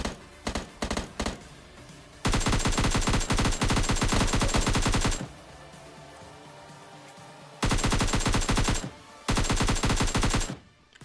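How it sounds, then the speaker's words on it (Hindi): Gunfire in the battle royale game PUBG Lite: loud bursts of rapid automatic fire, a few quick single shots first, then long sustained volleys separated by quieter gaps. "पीछे की तरफ फाइटिंग के साउंड आते हैं, फायर शॉट्स आते हैं"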